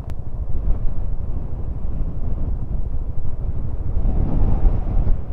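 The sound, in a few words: strong wind blowing on the microphone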